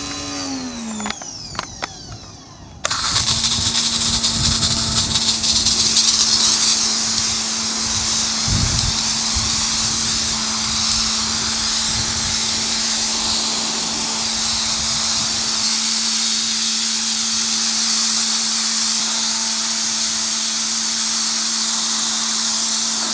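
A cheap ALDI pressure washer blasts moss and grime off concrete outdoors, starting after a few seconds of quieter motor noise and then holding a loud, steady, close hissing spray with a constant motor drone.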